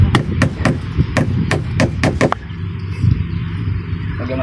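A hammer drives nails into plywood on an old wooden boat. About eight sharp, rapid blows ring out up close, then the striking stops and low background noise continues.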